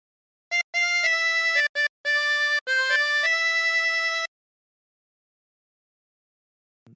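Harmonica playing the melody of a song, a solo line of sustained breathy notes in short phrases with brief gaps, close and clear, followed by silence.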